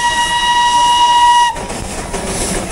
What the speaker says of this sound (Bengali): এখানের যে মেন দেখার জিনিস মানে দার্জিলিংয়ের, সেটা হচ্ছে টয় ট্রেন